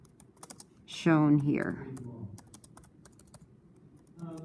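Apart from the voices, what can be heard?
typing on a computer keyboard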